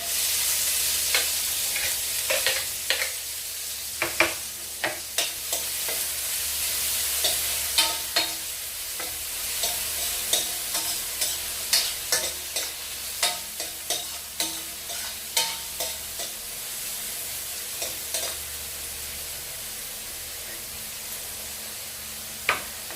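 Onions sautéing in a pan, a steady close sizzle broken by repeated scraping strokes of a spoon as they are stirred, with no talking.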